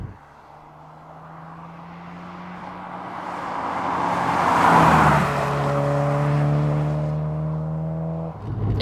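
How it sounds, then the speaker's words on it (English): Cabin of a 2004 Subaru Impreza WRX STI Spec C Type RA on the move, with steady road roar and wind rush that swell midway, while a droning engine tone runs throughout and the dash rattles. "You can hear an awful lot of both road and wind noise, and the dash is rattling as well."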